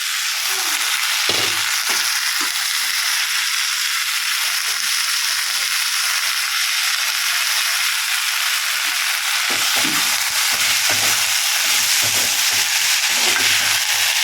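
Vegetables frying in a hot pan give a steady, loud, hissing sizzle with no break, and a few soft clinks of stirring come through now and then.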